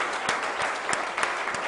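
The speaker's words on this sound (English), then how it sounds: "Give them a round of applause" Applause from an awards ceremony audience, a steady dense patter of many hands clapping with no talk over it, moderately loud and close, lasting under two seconds.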